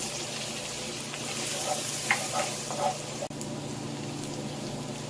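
Tomato paste and all-purpose flour sizzling in a pot over sweated vegetables for braised short ribs, a steady close crackle with stirring scrapes and a brief sharp knock midway.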